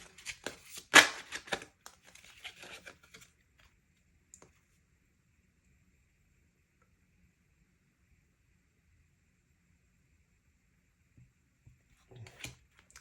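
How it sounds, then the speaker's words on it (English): Austera tarot cards being shuffled and riffled, a dense papery burst with a sharp flutter near the start, then softer scattered card handling that fades to quiet before a few light touches return at the end. "And I'm going to pull some of these Austera tarot cards."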